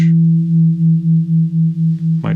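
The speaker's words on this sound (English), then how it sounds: "So it's that pulsating sound of the two out of tune notes." Two slightly out-of-tune bass guitar harmonics ringing together, producing a loud, steady pulsating beat of about four swells per second that stops abruptly at the end.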